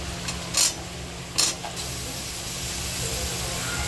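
Eggplant dropped into a hot pan of potatoes already roasting on high flame, giving a steady close hiss of sizzling with two brief louder bursts near the start before settling into an even, continuous fry.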